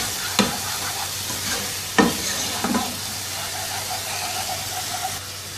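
Ginger garlic paste sautéing in a pan, a steady loud sizzle with occasional spoon scrapes and taps as it is stirred, close and continuous without talk.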